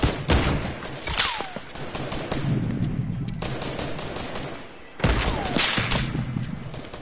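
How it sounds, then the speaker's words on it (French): Video game gunfire rattles in dense bursts through most of the stretch, breaking off briefly before a fresh loud volley starts up, with no talking over it. "Y a un mec qui tire, mais je sais pas d'où."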